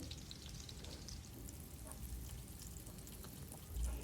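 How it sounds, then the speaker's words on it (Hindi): Garlic for matar pulao fries in a pan with a faint, steady crackling sizzle and scattered small pops, with no talk over it. "तो देखिए लहसुन हमारा अच्छे से फ्राई हो रहा है।"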